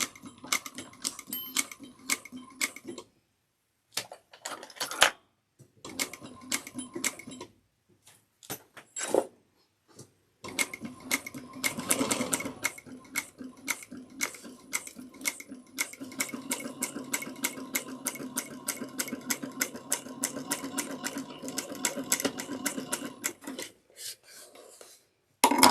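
A domestic sewing machine stitches a bag in short, stop-start runs, then a longer continuous run, close and moderately loud, with intermittent clicking and handling between bursts.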